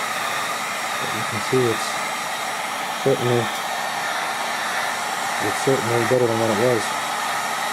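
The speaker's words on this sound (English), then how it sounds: "You don't want to melt your fender by holding the heat gun in the same spot." A heat gun blows onto a plastic ATV fender with a constant, loud whooshing hum under the whole clip, while someone speaks in short phrases over it.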